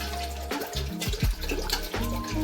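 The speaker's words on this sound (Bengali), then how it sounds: "এবারে জল আমি অ্যাড করছি চালটা আমি সিদ্ধ করে নেব" Water pours steadily into a cooking pot of rice for fried rice, with a close, continuous splashing and gurgling that shifts in tone as the pot fills. No one speaks.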